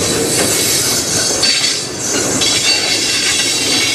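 A CN freight train passes close by in Sarnia, Ontario, a loud continuous rumble of freight cars with rhythmic wheel clatter and brief squealing, no voices.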